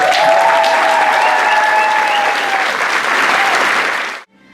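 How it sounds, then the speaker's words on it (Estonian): Loud, steady applause from a crowd at a high school graduation ceremony, sustained clapping throughout that cuts off abruptly near the end. "Ma paluks aplausi Kevin Jalvarile."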